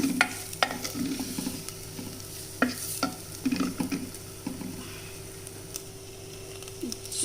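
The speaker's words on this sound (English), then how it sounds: "Now the ginger paste has also roasted well." Ginger paste roasts and sizzles in a pan for a Sindhi potato and tomato curry, with a steady frying hiss and repeated scraping stirs that come in uneven bursts.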